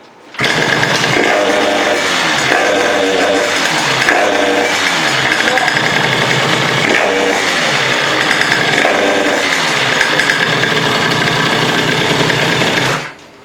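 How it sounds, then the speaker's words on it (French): A moped engine fitted with an MVT Premium ignition revs hard against its rev limiter, a loud, buzzing, sustained whine cut into a stuttering, pulsing drone for several seconds, then stopping abruptly. "donc là on entend bien que ça bride dans les tours"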